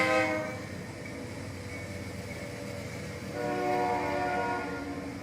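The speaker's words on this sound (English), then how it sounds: "That damn train, I swear." A train rumbles past with strong tonal horn blasts, a sustained chord that swells again midway, loud and steady over the rolling rail noise, with no talking.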